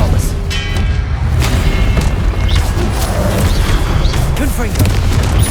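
Spell combat in Hogwarts Legacy: an Expelliarmus cast lands amid deep, rumbling booms and bursts that sustain loudly throughout, with scattered crackles and whooshes of magic layered over a continuous low roar.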